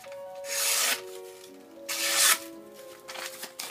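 An Enlan S01B knife edge, slightly toothy, drags and tears as it is tested: two close, raspy scraping strokes roughly a second apart, with a faint ringing tone underneath and a smaller scratchy flutter at the end, with no talking.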